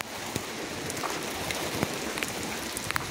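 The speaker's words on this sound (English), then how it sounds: "Just looking at the rain, look." Steady rain falls outside a hotel, a dense even hiss with scattered drops tapping sharply on a surface, and no talking.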